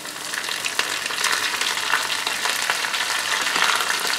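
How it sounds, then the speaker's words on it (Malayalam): Curry leaves fry in hot coconut oil, a steady close crackle and sizzle with sharp pops, heard alone. "ഇനി ഇതിലേക്ക് കുറച്ച് കറിവേപ്പില ഇട്ട് കൊടുക്കാം."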